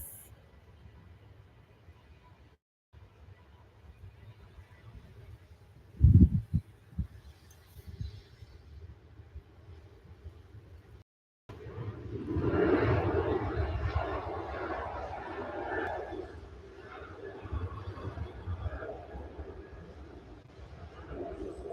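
A Ryanair jet taking off at Manchester Airport, heard from a distance as a faint low rumble that swells into a broad roaring engine wash in the second half, with a brief thump early on.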